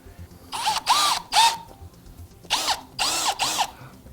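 Power drill boring pilot holes for the floor brackets that hold down a Toto Neorest 750h toilet on a wooden floor, in four or five short whining bursts with brief pauses between them, close and loud.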